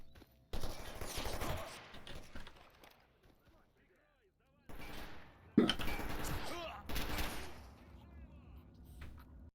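Enemy gunfire in a shooter video game, with loud bursts of rapid shots in clusters separated by quieter gaps, mixed with other game sound effects.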